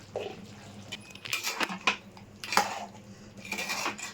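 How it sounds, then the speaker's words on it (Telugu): Chili powder and masala paste being stirred in a cooking pot for chicken egg gravy, heard as intermittent scrapes and clinks of a spoon against the vessel, close, no talking. "కారము మసాలా పేస్ట్ మొత్తం వేసిన తర్వాత బాగా కలుపుకోవాలండి"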